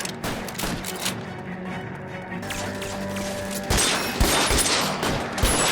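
Heavy gunfire in the crime game L.A. Noire, a loud fusillade of overlapping shots and rapid bursts that swells toward the end, continuous and close throughout.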